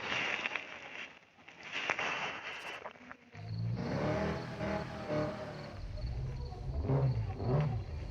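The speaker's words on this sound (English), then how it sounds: "Just barely over revved it, but that's okay." In the racing game Need for Speed No Limits, a car engine roars up from a lull into a loud, sustained high rev with harsh over-rev peaks near the end, heard on its own.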